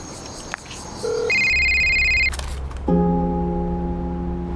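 A telephone rings and beeps with several clear electronic tones, some held, some stepping between pitches, then a steady multi-tone ring that sounds on to the end over a quiet background.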